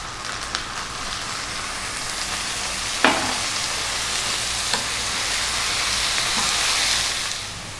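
Tomatoes and paprika cooking in a pan for chicken paprikash, with a steady bright sizzle, a few sharp utensil clicks and a slight swell near the end.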